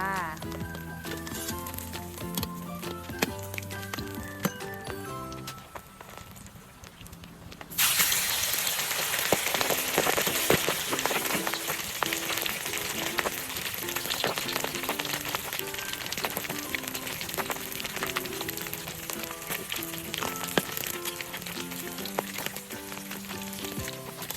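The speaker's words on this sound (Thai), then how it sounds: "ปลาของเราก็ทอดสุกจนเสร็จเรียบร้อยนะคะ" Carp deep-frying in a pan over a wood fire, a steady close hiss and crackle of sizzling oil that surges loudly partway through and continues under background music.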